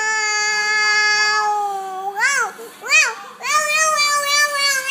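A young child mimics a cat, giving a few drawn-out, wavering meows with a rising and falling pitch, close and clear, between stretches of sustained voiced sound.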